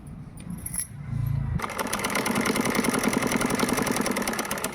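A sewing machine runs steadily while a circle frock is stitched, a fast even mechanical rattle starting after a brief quieter handling noise, close and moderately loud.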